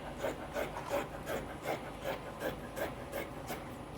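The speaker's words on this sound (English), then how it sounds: "Let me just cut one more so we will have enough to go around." Scissors snip through fabric in a steady series of about ten short, crisp cuts at an even pace, close and moderately quiet, while bias strips are cut for a cold shoulder dress.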